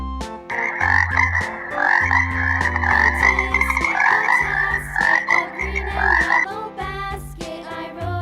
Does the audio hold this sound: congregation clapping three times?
no